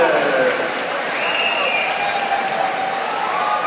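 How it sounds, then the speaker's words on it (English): Audience applause for two fighters at a Kingdom 7 boxing event at Boxpark, steady crowd clapping and cheering at close range, with an announcer's voice carrying over it. "Please have a big round of applause for both of our fighters."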